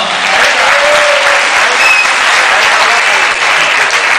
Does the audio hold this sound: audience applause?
yes